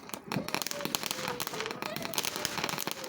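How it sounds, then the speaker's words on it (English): Dense rapid crackling and popping of fireworks, fairly faint and continuous, with a voice speaking briefly underneath. "It actually made the firework this time."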